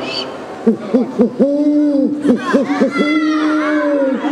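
A deep human voice imitates an owl, giving a series of short hoots followed by longer drawn-out hoots, loud and close.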